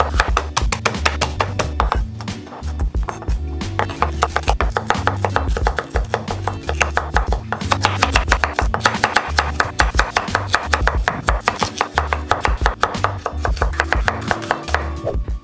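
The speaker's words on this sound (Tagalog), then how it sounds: "maggayat na tayo ng sibuyas at ng iba pa nating mga gulay" A knife chops onions and other vegetables on a cutting board in rapid, steady strokes, close and loud, sustained with brief pauses and no speech.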